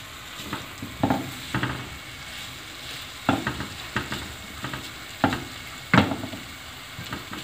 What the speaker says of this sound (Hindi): एक आध मिनट इसको भून लेते हैं